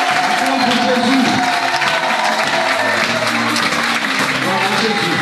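A church congregation claps and cheers for Jesus during a pastor's sermon, a dense, sustained wave of applause with crowd voices running loudly throughout.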